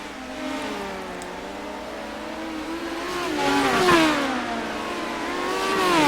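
Midget race cars scream around the Pevely speedway, their engines whining with rising and falling pitch as they pass close by, a loud continuous roar that swells near the middle and again at the end.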